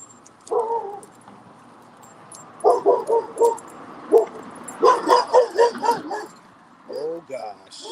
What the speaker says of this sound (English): You got a drive-by barking.